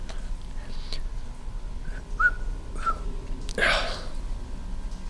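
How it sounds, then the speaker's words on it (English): A person whistles a few short, clear notes spaced about a second apart, followed by a louder breathy burst, over a quiet indoor background. "I wanted someone to know that I got better at whistling."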